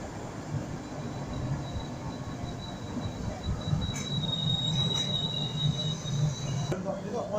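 Passenger train pulling out of Durham station on the East Coast line, a steady rolling rumble of wheels on rails with a thin high squeal of wheels running through the sound, fairly loud and continuous, with no talk.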